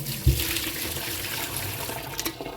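Water from a coffee maker's fully filled reservoir poured out into a sink, a steady continuous splash and gush lasting a couple of seconds with a small bump near the start.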